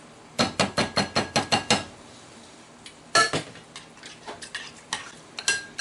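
Canned diced tomatoes go into a pot of lasagna sauce: a quick run of sharp metallic clinks as a utensil taps and scrapes the can, a pause, then softer scattered knocks and clatters nearby, with no talking.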